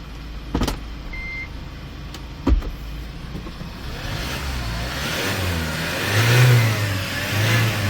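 A 2017 Hyundai Porter 2 Super Cab truck with a Euro 6 engine and automatic transmission, at 164,000 km. A couple of sharp clicks come first, then the engine revs up and holds a rising, moderately loud drone nearby.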